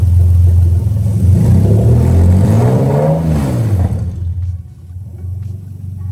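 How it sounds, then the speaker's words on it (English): A Toyota 1JZ-GTE VVT-i engine in a JZX110 Mark II revs loudly: a deep, sustained rumble rising and falling in pitch through one long rev, then settling back to a quieter idle, close and without speech. "Coolant temp is also working, but let's give it a bit of a rev."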